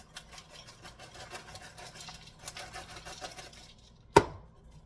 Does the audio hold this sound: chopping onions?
yes